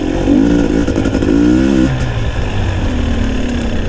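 A 2021 GasGas 250 EC motorcycle engine rumbles loudly and close, its pitch rising and falling as it revs while riding.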